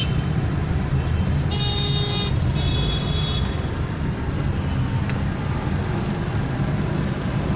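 Busy road traffic on Murree Road in Rawalpindi, a long queue of vehicles near the Committee Chowk bridge, with a steady dense rumble of engines and a sustained car horn toot early on, plus a few brief honks later.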